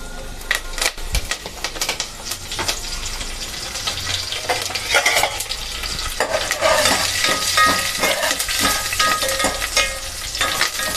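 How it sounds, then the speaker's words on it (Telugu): Mustard seeds, cumin and dried red chillies sizzling and crackling in hot oil in a pan, loud and close with continuous spattering and a few stirring clinks, no talk. "నూనె వేడైందండి ఆవాలు వేసుకుందాం ఆవాలు జీలకర్ర ఎండుమిరపకాయలు వేసుకుందాం"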